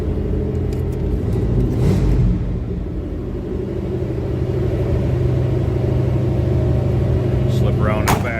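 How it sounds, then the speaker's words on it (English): The 454 engine of a 1987 Chevrolet Suburban runs at a steady, fairly loud low rumble, with a brief swell near the start and a faint click near the end. "I'm going to fire this up too so we can hear it run."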